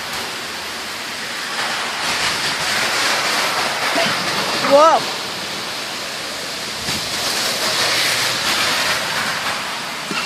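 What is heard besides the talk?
rain falling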